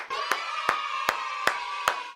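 An added crowd clapping-and-cheering sound effect plays as a steady roar with five evenly spaced sharp claps or hits punctuating it, moderately loud.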